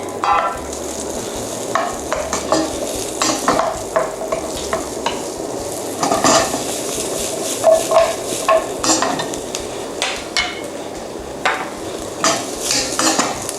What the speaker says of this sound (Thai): ละลายแล้วใส่ผักลงไปเลย รวมกันทีเดียวเลย